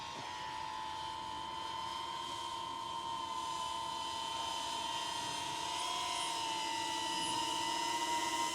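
A DJI Avata 2 FPV drone fitted with a delivery drop system whirs steadily with a close, continuous high-pitched propeller whine and hiss, holding constant throughout with no talking.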